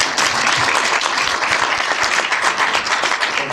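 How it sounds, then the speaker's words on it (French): A standing audience at a press conference applauds the First Lady of Congo, loud, dense, sustained clapping from many hands close by, with no voices above it. "Si vous voulez l'applaudir, vous vous levez, on l'applaudit."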